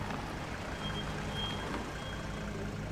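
A car pulling in to park in the horror game Outlast, heard as a steady engine rumble with a faint, thin tonal beep running over it for about three seconds.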